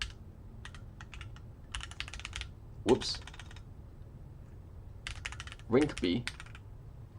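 Computer keyboard typing during a smart contract coding session, bursts of quick key clicks in several short runs, close and fairly clear, with a voice talking over part of it.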